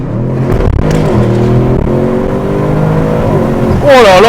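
A 1001-horsepower Audi RS7 accelerates hard, its engine a loud, close, rich harmonic roar climbing through the revs, then rising sharply into a howling surge near the end.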